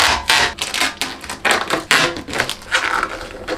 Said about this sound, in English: The first piece was rather satisfying to unwrap.